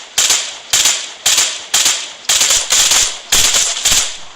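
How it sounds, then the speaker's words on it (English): SMG gunfire in a video game: eight sharp, loud bursts in a fairly even rhythm, each one a crack that decays quickly, with no talk. "you're shooting with the SMG"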